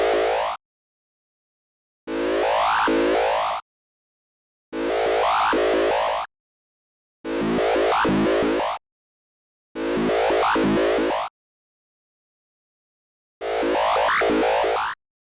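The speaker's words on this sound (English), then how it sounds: "Doing it that way almost sounds like sample and hold." Repeating pitch effect from a free 8-bit sound maker: six separate bursts of chirpy, rapidly stepping synthetic tones, each about a second and a half long with silent gaps between, loud and alone.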